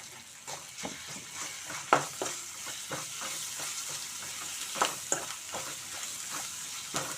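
Ginger garlic paste fries in a pan for a village-style brinjal and tomato curry, a steady close sizzle broken by repeated spoon scrapes and taps at an uneven rhythm.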